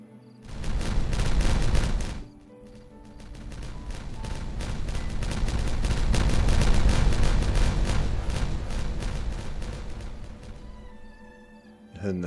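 Video game explosions blast through a dam, a rolling barrage of loud booms and crackling detonations that swell, dip briefly, then build into a long sustained roar before fading.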